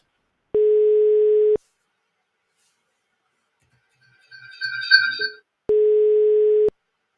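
A steady electronic ringback tone from a laptop placing a browser phone call sounds twice, each about a second long, separated by a pause with a brief burst of electronic chirping between them.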